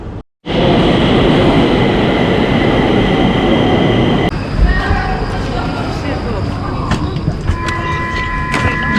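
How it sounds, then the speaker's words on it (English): A metro train rumbles loudly through a Stockholm station, then slows with squealing wheels and metallic screeches; brief talk may be faintly present. "I think I just missed the train"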